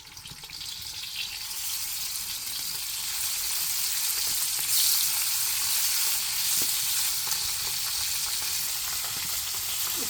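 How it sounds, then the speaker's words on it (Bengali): Mixed fresh fish frying in hot soybean oil in a wok, a steady dense sizzle that holds loud and even throughout with no voices. "তেল গরম হইলে তাহলে মাছগুলো দিয়ে দিম"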